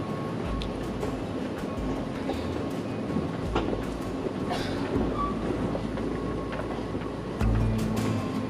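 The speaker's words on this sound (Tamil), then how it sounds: "மெட்ரோ ஸ்டேஷனுக்கு உள்ளே போயிட்டுருக்கோம்" Train rumbling through an evening metro station, a steady rail-and-carriage roar that stays loud for the whole stretch, with brief clicks and a heavier surge near the end.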